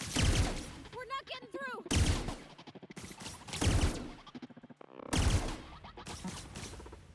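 Gunfire bursts from The Outer Worlds video game come in several loud separated volleys, with a voice speaking in the gaps between them.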